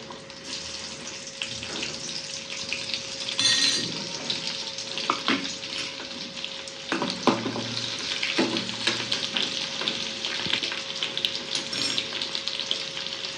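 Garlic sizzles in a pan while cooking bombil fish, a bright hissing crackle that holds steady at moderate volume, broken by a few clinks and scraping sounds, with a faint constant tone in the background and no talking.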